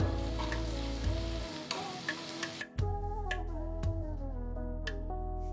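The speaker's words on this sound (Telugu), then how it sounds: "ఉల్లిపాయలని ఒక రెండు మూడు నిమిషాలు ఇట్లా సాటే చేసిన తర్వాత దీంట్లో ఇప్పుడు నేను నెక్స్ట్ జస్ట్ ఒక అర టీ స్పూన్ అల్లం వెల్లుల్లి పేస్ట్ వేస్తున్నాను" Onions with ginger-garlic paste and chopped tomato sautéing in a pan for puliyogare tamarind chutney, a steady close sizzle with stirring scrapes and a few sharp ticks, briefly quieting mid-way before resuming.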